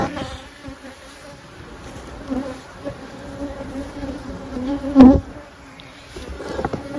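Close, continuous buzzing of honeybees around a hive working a nectar source, a steady hum that swells briefly midway, with no talking.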